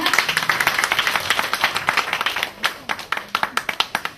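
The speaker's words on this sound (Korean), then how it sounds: "그래서 박수 부탁드리겠습니다" An audience claps steadily at a Korean youth charity event, many hands giving a sustained round of applause for a nervous young speaker, crisp close claps that thin out slightly toward the end.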